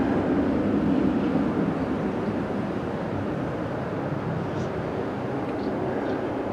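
A departing airliner at Okinawa airport roars with a loud, steady, broadband engine rumble that holds evenly throughout, with no talk.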